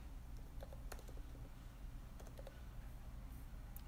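Soft, quiet typing on a computer keyboard as a title is entered, with scattered light key clicks in short bursts over a low steady background hum.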